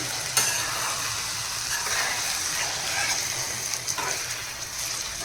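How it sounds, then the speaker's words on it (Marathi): Continuous sizzling from a pan with scraping strokes of a spoon stirring through thick dhaba-style chicken masala curry, close and fairly quiet, without any talking. "आता आपण हे छान मिक्स करून घ्यायचं आहे"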